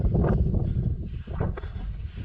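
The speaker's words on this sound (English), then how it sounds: "It's windy," Strong wind gusts buffet the microphone on a mountain hiking trail at Pigeon Mountain, a loud continuous roar with rustling bursts and no voices.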